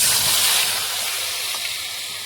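Spice paste tipped into hot oil with whole garam masala gives a loud, broad sizzle that hisses steadily and slowly fades a little, with no voice over it.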